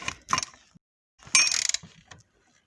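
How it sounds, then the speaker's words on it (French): A 13 mm ratchet loosens a brake caliper bolt on a Citroën DS3, giving two short bursts of close metallic clicking separated by a pause, followed by a lighter tap. "j'ai pris un cliquet de 13 pour pouvoir tout simplement"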